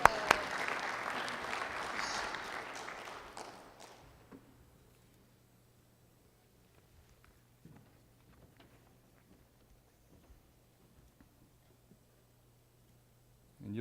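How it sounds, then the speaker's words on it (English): Audience applause at a manufacturing excellence talk, a dense burst of clapping for about four seconds that thins into scattered claps and near silence. "How about give her a big round of applause for getting me going here?"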